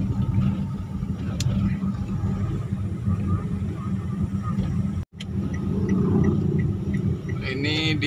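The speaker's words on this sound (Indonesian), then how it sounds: "Kita naik Grab ini" Steady low engine rumble and road noise from inside a Grab ride-hailing car moving through holiday traffic in Bekasi, continuous and close, with a brief dropout midway and faint ticking above.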